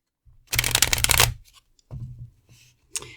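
A deck of tarot cards riffle-shuffled once in a quick rattling burst, then a few softer taps and shuffles, close up and quiet otherwise.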